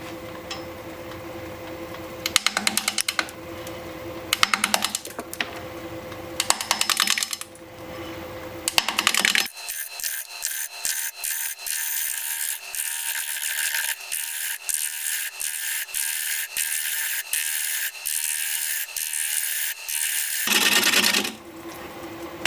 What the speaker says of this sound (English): We're going to be turning at 575 RPM. 5/8 inch bowl gouge.